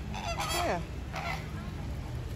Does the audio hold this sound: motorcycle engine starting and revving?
no